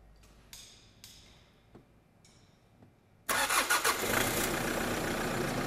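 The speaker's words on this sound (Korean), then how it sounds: "자, 시동 걸겠습니다." A diesel car engine cranks and starts up during an electronic control system inspection, firing abruptly after a few faint clicks and then settling into a loud, steady idle, with no talking.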